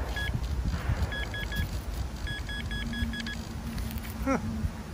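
Metal detector signal beeping over a target at an old farm dump site, short repeated electronic tones in quick clusters, fairly faint over outdoor rustling and handling noise.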